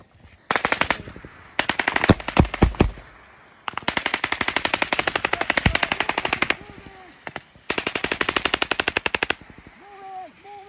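Loud machine gun fire in combat, several sustained bursts of rapid automatic shots separated by short pauses, with heavier single blasts mixed in and a few faint voices near the end.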